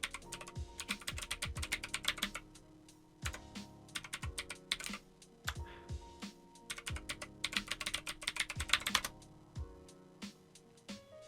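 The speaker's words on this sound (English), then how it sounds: "And I'm going to type in my password." Rapid bursts of keystrokes on a computer keyboard while a password is entered, clattering in quick runs separated by short pauses, close and fairly quiet, with no voices.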